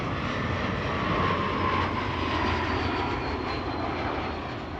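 A KLM airliner arriving at Amsterdam Schiphol from Ostend gives a steady jet engine roar with a faint whine, moderately distant and tapering slightly at the end, with no talking.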